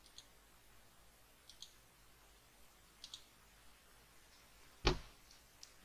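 Mouse clicks while working in Adobe Illustrator come as a few faint, sparse ticks over quiet background hiss, closing with one louder, sharper click.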